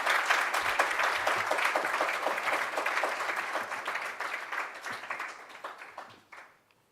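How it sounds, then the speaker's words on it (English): Audience applause rings out for a hackathon team called onto stage at a varsity hackathon, steady and full from a sizeable crowd before fading away near the end. "Can we give them a round of applause?"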